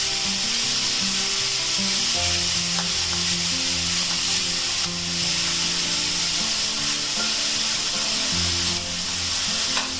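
Onion and garlic stir-fry in a pan for a water leaf thoran, with a steady, close sizzle throughout and occasional scraping of the spoon. No voices are heard.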